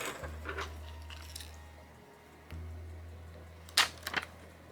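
Scissors snip through an adhesive paper border bought as craft trim, giving a few short, crisp cuts over a low steady hum, with a sharper cluster of snips near the end.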